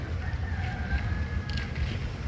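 A rooster crows at a distance in a backyard garden, a thin drawn-out call rising over steady low traffic rumble and outdoor background noise.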